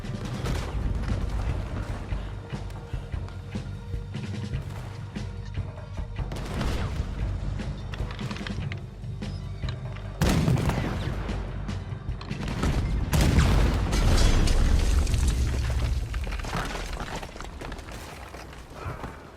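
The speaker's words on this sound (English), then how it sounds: "Use the cannon out there." Cannon fire and explosions in Red Dead boom repeatedly during a ship battle, a string of heavy blasts and crashes that grows denser and louder in the second half, with no voices.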